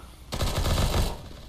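A long automatic burst of rapid gunfire from Counter-Strike: Global Offensive starts abruptly and runs for about a second before stopping, loud and close with no talking.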